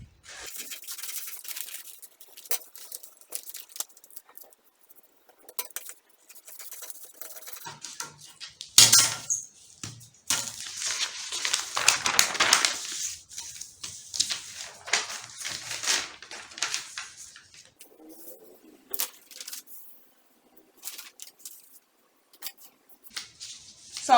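Scissors cut through fabric for a peplum blouse pattern with irregular, crunchy snips and sliding blade strokes. The cuts come close and intermittent, with brief pauses and short silences between runs, and no talking.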